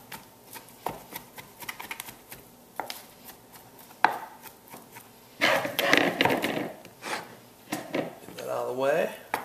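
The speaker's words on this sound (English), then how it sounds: "we're going to go ahead and chop this brisket up now" Tender smoked brisket is chopped with a knife on a board in a run of close, sharp knocks, some quick and some spaced apart, with a voice speaking over part of it near the end.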